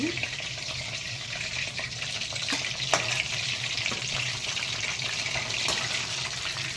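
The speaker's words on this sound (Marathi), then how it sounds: "अशा प्रकारेच मी सगळे लॉलीपॉप तळून घेणार आहे" Chicken lollipops deep frying in hot oil, a continuous bubbling sizzle with occasional sharp clinks and pops, steady and moderately loud, no talk.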